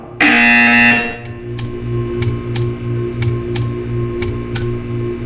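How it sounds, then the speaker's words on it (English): In the Portal 2 video game, a loud harsh buzzer blares for about a second, followed by a rhythmic series of regular ticking clicks over a low steady hum. "You will hear a buzzer."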